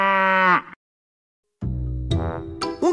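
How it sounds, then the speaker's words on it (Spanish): A cow moos once in a farm-animals children's learning game, a short, loud, close moo that ends abruptly, followed after a pause by an enthusiastic voice speaking. "¡Muy bien hecho! ¡La vaca!"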